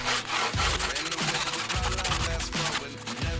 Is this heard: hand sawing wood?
yes